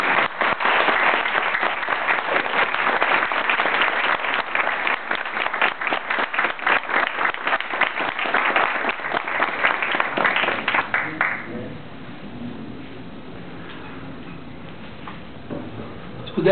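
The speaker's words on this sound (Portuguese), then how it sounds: "Antes das perguntas, eu proponho uma salva de palmas." An audience at a political movement meeting in Belo Horizonte breaks into sustained rhythmic applause that lasts about eleven seconds, then fades to quiet room tone with faint murmuring.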